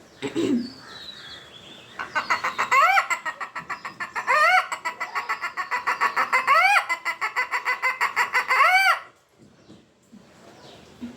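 A voice imitates a hen's pre-laying clucking: repeated rising cackles in bursts, close and loud, then stops abruptly.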